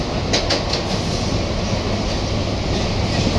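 A largely empty passenger train rolls along with a steady mechanical rumble and rattle from inside the carriage, and a few light clacks early on.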